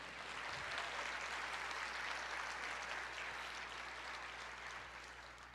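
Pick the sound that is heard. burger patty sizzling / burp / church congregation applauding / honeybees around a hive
church congregation applauding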